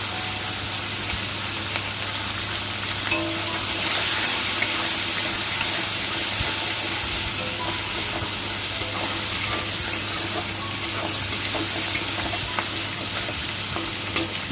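Salted, turmeric-rubbed hilsa fish head pieces fry in mustard oil in a kadai, giving a continuous loud sizzle with occasional crackles and spatters and no voices.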